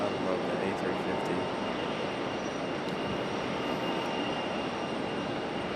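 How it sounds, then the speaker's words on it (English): An Airbus A350 jet performs a go-around at Raleigh-Durham International Airport, its engines giving a steady, broad roar that holds at constant loudness throughout without a break. "does a magical go around here. It's a beautiful, beautiful aircraft. I love the A350."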